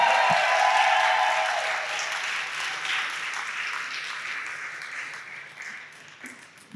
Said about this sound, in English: But we want a loud cheer each time they come up.